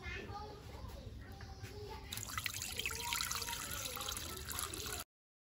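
Clean water poured into a cooking pot while making pickled lotus roots, a soft trickling pour that grows fuller midway and continues for several seconds, with faint voice underneath.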